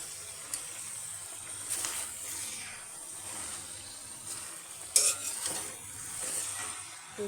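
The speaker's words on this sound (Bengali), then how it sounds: "এবার আমি পুঁই শাকটা দিয়ে দিচ্ছি।" Malabar spinach being stirred in a frying pan with cooked fish, a soft continuous sizzle under scraping and clinks of a spatula against the pan, fairly quiet and without talk.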